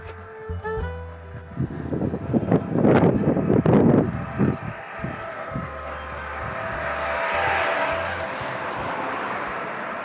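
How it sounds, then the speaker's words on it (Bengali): Strong wind gusting across a bridge buffets the microphone in heavy low rumbling bursts, loud at first then easing into a steadier broad rush, with no talking. "প্রচণ্ড বাতাস"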